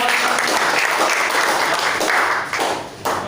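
A crowd applauding loudly and steadily at a barber school class in Indonesia, a dense wash of many hands clapping that tapers off slightly near the end.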